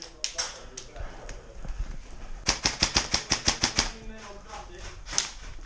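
Airsoft guns fire in a rapid burst of about a dozen sharp snapping shots, with a few scattered single shots before and after, during a game at an outdoor airsoft site, with voices speaking around the shooting.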